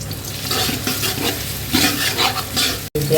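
Onions and whole spices fry in oil in a large pot, giving a loud, close, steady sizzle with stirring scrapes and a brief dropout near the end.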